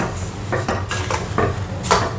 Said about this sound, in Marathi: सो आपण साखर टाकून हलवूयात.